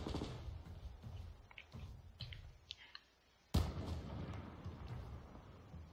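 Sniper rifle shot in the online shooter Survarium: a sudden loud, sharp crack cuts in after a brief lull, followed by a lingering rumble. Scattered game clicks and movement sounds come before it.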